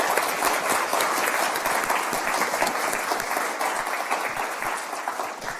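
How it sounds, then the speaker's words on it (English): Seminar audience applauding panellists on food production and development, a steady, full round of clapping that carries on evenly for several seconds before easing slightly. "Just give them a quick round of applause."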